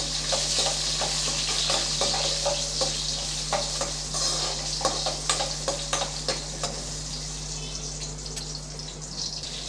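Whole small shallots and cumin sauté in hot oil for sambar rice, a steady close sizzle with a low hum underneath, broken by a string of sharp stirring scrapes and knocks against the pan.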